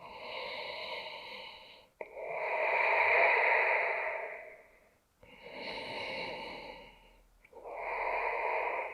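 Deep, slow breaths during a breathwork exercise, three long drawn inhales or exhales with brief pauses between, close and fairly loud with a rushing, airy quality.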